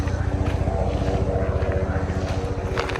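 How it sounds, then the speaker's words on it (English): A helicopter passes overhead while animals are being fed, its rotor producing a steady, pulsing low throb that stays loud and continuous throughout, with a person talking over it. "I actually hear a helicopter going over us."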